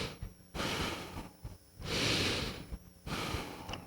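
Yoga breathing, with air pushed out through the nose in several loud, close exhales and inhales that alternate in a slow rhythm.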